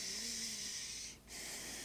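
A slow, soft exhale through the nose during yoga breathing, a faint airy hiss close to the mic that dips briefly before continuing.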